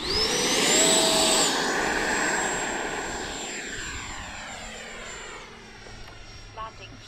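An X-Fly Sirius RC model airplane flies with flaps and landing gear down, its engine drone loud and close at first, then fading steadily into the distance as the plane passes away.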